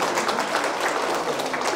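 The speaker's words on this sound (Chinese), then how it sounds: "掌声鼓励鼓励。" A congregation claps at a church baptism service, a dense, even patter of many hands held at a steady level for the brief moment, with no voices over it.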